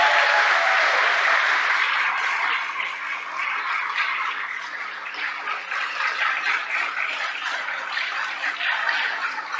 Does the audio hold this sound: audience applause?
yes